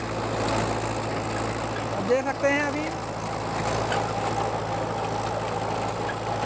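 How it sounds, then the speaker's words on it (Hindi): A Mahindra 585 DI Sarpanch tractor engine runs at a steady idle on a farm, a continuous low hum that stays constant throughout while someone speaks briefly over it. "अभी दिखाएंगे कि ट्रैक्टर कितना RPM ड्रॉप कर रहा है"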